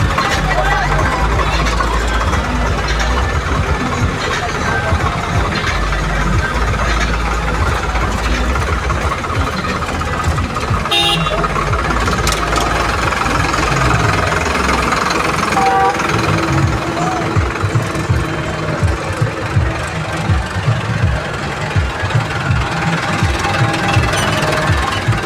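A convoy of motorbikes, tractors and about a hundred cars rumbles through the village of Kithana at a political rally, a loud, dense, continuous engine drone and clatter with voices mixed in.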